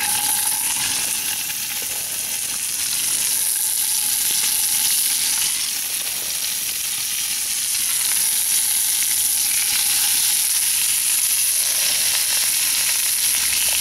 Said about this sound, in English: One of them sizzling like that when they go in.